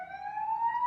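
An ambulance siren wails in a single rising tone, fairly faint and distant, sounding alone with no voices over it.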